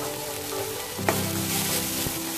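Steady hiss and crackle of finely chopped onions frying in hot oil for Tamil egg curry, continuous and close, with a brief clatter of stirring partway through.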